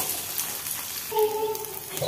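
Garlic frying with coconut in a pan for a masala, a moderate steady sizzle close by, with a brief tonal squeak or scrape partway through.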